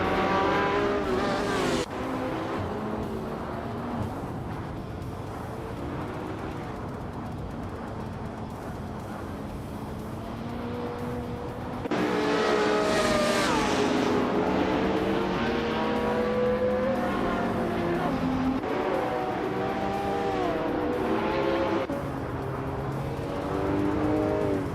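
Engines of race cars in a racing video game roar and rev continuously as they overtake one another, pitch rising and falling through gear changes, loud and close throughout with no speech.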